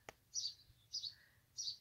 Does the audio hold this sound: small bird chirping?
yes